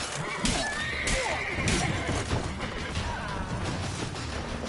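A horse in the video game The Witcher 3 gives a loud, shrill whinny with snorting, accompanied by heavy thuds and a clattering kick.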